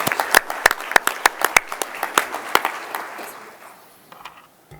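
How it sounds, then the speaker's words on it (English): At a school board meeting, a small audience gives a brief round of applause. A few distinct, separated claps ring out, then thin out and fade to quiet within a few seconds. "And another round of applause for all the great things that are happening at Smith Elementary School."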